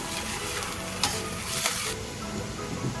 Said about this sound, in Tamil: அந்த பியூரி சேர்த்து அது நல்லா அது பச்சை வாசனை போகிற வரையும் நல்லா நம்ம வதக்கணும்